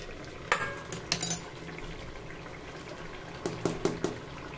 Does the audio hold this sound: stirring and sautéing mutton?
yes